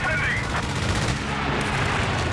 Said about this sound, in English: the strafe coming in here from Heartless Jäger